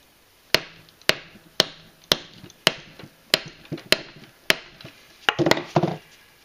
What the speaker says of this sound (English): we're going to grab the input shaft, and we're going to lift up and slightly tap the shifter.